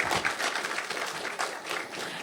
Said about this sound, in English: let's have a big round of applause for our speakers